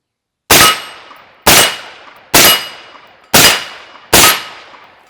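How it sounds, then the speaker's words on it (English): KS-47 rifle shots ringing a steel target after a firing pin fix, five evenly spaced loud metallic clangs, each sharp crack followed by a short ringing decay. "I'm ready to see if this firing pin fix is going to work. Let's ring some steel."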